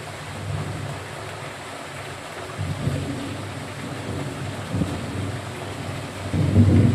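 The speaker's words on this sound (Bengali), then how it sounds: "এই দেখো বৃষ্টি পড়ছে।" Rain falls steadily during an afternoon downpour at a home, with low rolling thunder rumbling beneath a constant hiss that grows heavier and louder toward the end.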